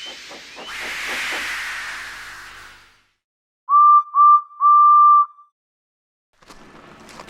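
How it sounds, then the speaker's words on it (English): A steam engine releases a loud, broad hiss of steam that fades out, then gives three sharp whistle blasts, one short pair followed by a longer one, before faint clanking returns. "So they lit his fire, made lots of steam, and Edward puffed away."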